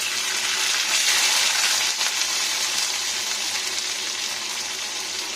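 Sajne data (drumstick) pieces frying in leftover oil after potatoes and eggplant were fried, a loud, steady, close sizzle running throughout with faint stirring clatter.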